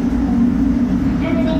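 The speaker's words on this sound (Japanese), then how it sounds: "さてこちら46630は13時14分定刻に発車します" A JR Hokkaido H100 diesel railcar on a local service to Abashiri rumbles heavily and continuously at close range as it departs, with a faint voice and rising tones near the end.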